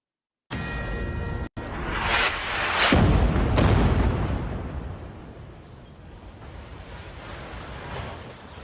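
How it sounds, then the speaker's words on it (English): Explosion from an Israeli airstrike hitting a building in Beirut: a sudden loud blast that swells into a deep, rolling rumble, then fades to a long roaring tail of debris and distant noise, with no speech. "New video of an Israeli airstrike taking out a building in Beirut"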